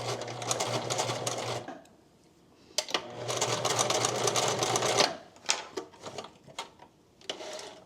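A sewing machine stitches fabric for a wedding guest dress in two loud, close bursts of rapid whirring, with a pause between, followed by shorter stop-start runs and clicks.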